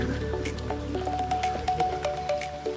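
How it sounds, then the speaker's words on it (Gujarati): Rain falls during a flood-relief distribution in a village, heard as scattered drips and drops patting on nearby surfaces in an irregular rhythm, with faint tonal sounds in the background and no speech. "ફિલહાલ વરસાદ બી પડતો છે"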